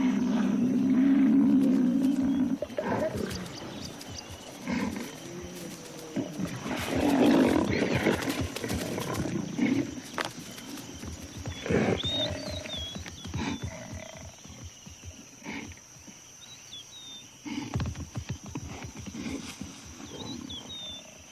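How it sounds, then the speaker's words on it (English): An African buffalo roars during a lion attack on the Kenyan savanna, with deep bellowing roars and growls up close amid scuffling, and faint bird calls in the background. "The buffalo roars, calling his companions to his defense."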